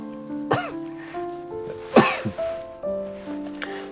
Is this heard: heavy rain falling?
no